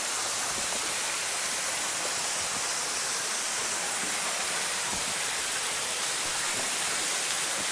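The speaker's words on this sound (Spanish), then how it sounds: "¿Escuchan el ruido del agua?" The waterfall by the Indio cave in Valle del Lunarejo, Uruguay, roars as a dense, unbroken hiss of falling water, loud and close, with nothing breaking through it.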